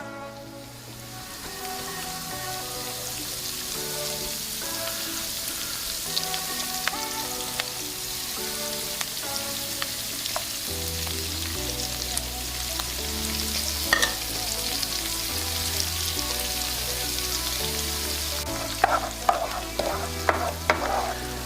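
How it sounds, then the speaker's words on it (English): Garlic, parsley and pepper sizzle steadily in hot oil for aglio e olio, with a constant frying hiss throughout and occasional clinks from stirring. Sustained background music plays along with the cooking sounds. "I want to stir this up real good. The garlic's still cooking a little bit, but it's not getting burnt."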